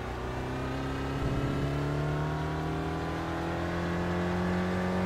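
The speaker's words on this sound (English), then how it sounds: "One of the things I like about the SRF is the very throaty sound of its engine." The throaty engine of an SRF race car in iRacing at Mosport drones loud and steady throughout, its pitch rising as it accelerates, with a brief shift-like wobble early on and no talk.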